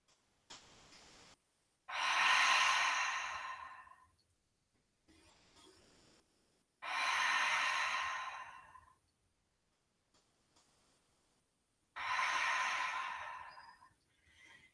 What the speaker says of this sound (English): Close your eyes, take 3 breaths.